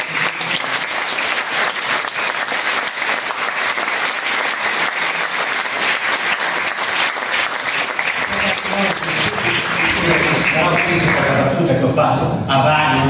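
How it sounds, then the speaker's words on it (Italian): A concert audience in Merano applauds loudly and continuously, a dense, sustained roar of many hands that continues steadily, with voices and some music starting to mix in near the end. "Un applauso postumo."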